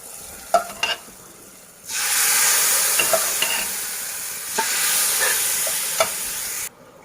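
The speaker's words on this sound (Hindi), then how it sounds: "अब ये तड़का मैं दाल में डालूंगी" A quick clatter, then a loud burst of sizzling as hot tempering oil hits lentil dal, hissing steadily for several seconds with occasional stirring clinks before cutting off.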